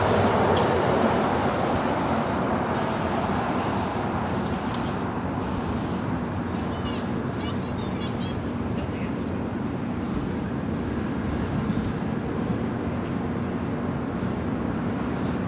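Continuous broadband roar of a Philippine Airlines jet rolling down the runway at LAX, loud and steady throughout with a faint whine partway through.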